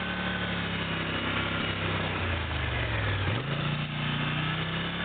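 Polaris 850 XP engine, one with a severe stutter or misfire, running steadily after pulling away, a loud continuous drone whose pitch dips and climbs again partway through.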